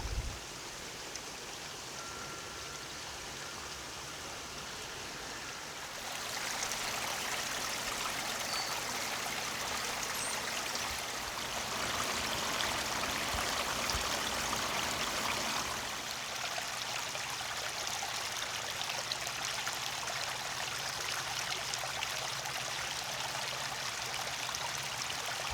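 A small waterfall on a garden railroad layout splashes in a soft, steady rush, growing fuller partway through and continuing alone without talk.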